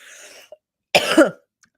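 A short throaty human cough burst preceded by a faint breathy sound, close and fairly loud, alone without speech.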